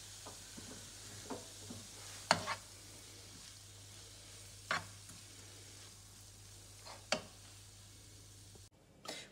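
Cooked vegetables with parsley in a pan are stirred over a gentle, faint sizzle, with a few scattered scrapes and clinks of the utensil against the pan before the heat is cut.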